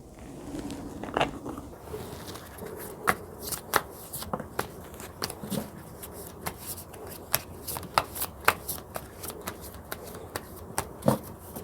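Tarot cards shuffled by hand at close range, giving a long run of quick papery slaps and riffles with sharper snaps scattered irregularly throughout and no talking.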